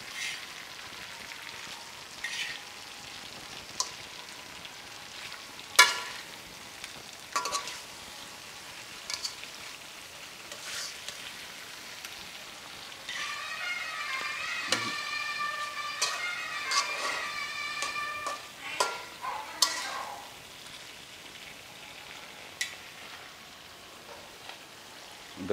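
Fish pieces sizzle in a pan of pulao, a steady faint crackle with scattered pops and clinks of utensils, building into denser hissing bursts midway.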